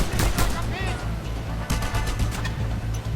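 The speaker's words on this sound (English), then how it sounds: "I was gonna be taken out by pistol shots." Video game gunfire in Just Cause 2, with pistol shots among a busy spread of repeated sharp cracks over a continuous low rumble of action, and no speech.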